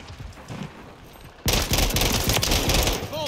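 Burst-fire assault rifle shots from Modern Warfare III crack out loud and close in a rapid, rhythmic run of bursts after a quieter stretch, continuing to the end.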